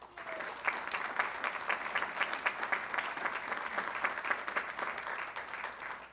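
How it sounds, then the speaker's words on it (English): Steady, moderately loud applause from the audience at a county government state-of-the-county address, a dense continuous patter of many hands clapping without a break. "I want to give yourselves a round of applause"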